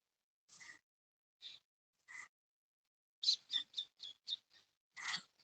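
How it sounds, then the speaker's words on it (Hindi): Morning birdsong of scattered high chirps, then a quick burst of rapid tweets, heard faintly in a quiet outdoor setting with no voices. "देखिए पक्षी का कलरव,"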